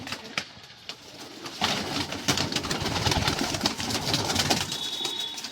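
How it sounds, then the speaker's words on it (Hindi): Pet pigeons in a loft coo in a steady, layered chorus, close and fairly loud, with a few sharp clicks and scuffs early on and no talking. "देखो कितने मस्त लग रहे हैं कबूतर हमारे"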